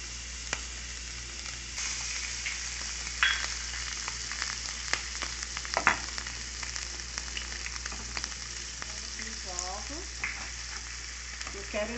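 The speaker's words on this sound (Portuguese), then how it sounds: "Porque eu vou fritar os ovos agora," Eggs fry in margarine in a pan alongside bacon, giving a steady close sizzle and crackle with scattered pops and a few scraping stirs, and no talking.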